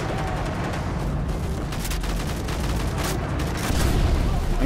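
Frag grenade blast in Call of Duty Modern Warfare 3, heard as dense, rumbling battle noise with booming bursts and steady background gunfire.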